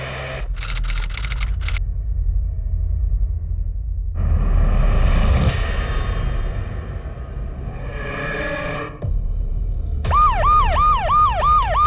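After bursts of clattering noise and a swelling whoosh, an ambulance siren cuts in near the end, loud and close, with its tone repeatedly rising and falling in a fast wail.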